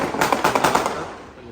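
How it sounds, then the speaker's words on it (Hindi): Diwali firecrackers burst in a rapid crackling volley, loud and dense like a string of bangs, heard from a balcony and fading out toward the end. "पटाखे फूट रहे हैं बहुत।"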